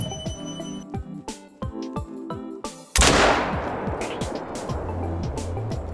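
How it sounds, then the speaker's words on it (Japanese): In theHunter: Call of the Wild, a double-barrel shotgun fires both barrels at once in a single loud blast that rings out and decays. Sparse, tonal game clicks come first and a low background drone follows. "ダブルバレルショットガン使用時に、両方のチェンバーの弾を同時に発砲できます"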